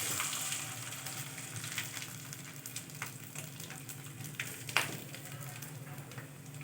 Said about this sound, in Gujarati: હવે આપણે બીજું તળી દઈશું.